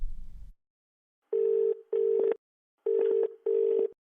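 Telephone ringback tone while calling mom, four steady, loud electronic ring bursts in two pairs, clear and alone after a short low rumble at the start.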